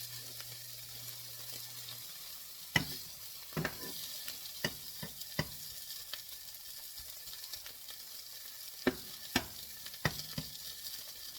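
An omelette sits in a frying pan giving a faint, even sizzle, with scattered sharp clicks and taps from a utensil against the pan, quiet and without talk.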